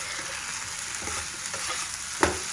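Curry in a frying pan being stirred during home cooking, with eggplant and dried fish mentioned: steady sizzling frying with soft scraping stir strokes and a sharper clink near the end, no talk.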